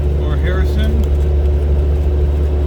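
A Jeep cruises along a road through Harrison, its engine and road noise forming a loud, steady low drone inside the cabin while someone talks over it.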